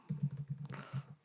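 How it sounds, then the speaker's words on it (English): Quick keystrokes on a computer keyboard tap out a short burst of about a dozen close, distinct clicks at an uneven typing rhythm, with no voice over them. "Excuse my typing here."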